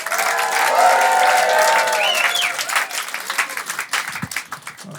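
A comedy special audience bursts into loud applause and cheering for a comedian, sustained at first, then thinning into scattered claps and whoops.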